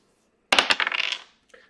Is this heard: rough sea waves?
no